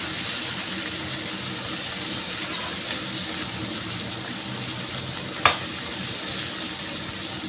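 Spices and tomato frying in a pan with salt added, a dense steady sizzle close by, fairly quiet and continuous, with a single sharp click partway through.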